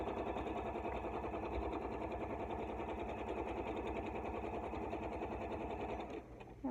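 Sewing machine stitching free motion quilting, meandering around a flower design: a steady, continuous close mechanical whir that holds throughout and drops away briefly at the very end.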